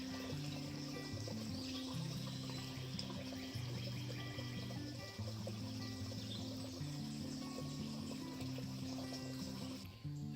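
A slow-moving creek trickles steadily on a nature hike at Radnor Lake near Nashville, with continuous soft burbling water and faint birds in the background.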